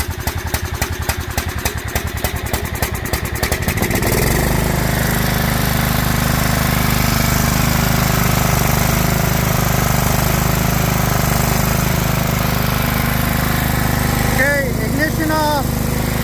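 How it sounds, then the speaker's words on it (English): A 2004 John Deere L110 lawn tractor engine cranks with a rapid rhythmic chugging, then catches and settles into a loud, steady running drone, with brief voices near the end. "Choke all the way on."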